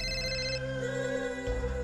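A telephone rings with a steady electronic tone, sustained and fairly close, changing pitch once partway through, with no talk over it.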